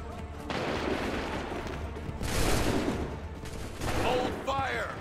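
Musket volleys crack out in Assassin's Creed 3, a dense battlefield fusillade of overlapping gunfire. Booming bursts and rolling echoes come in waves, with shouted voices mixed in.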